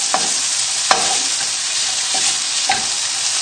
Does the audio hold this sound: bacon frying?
yes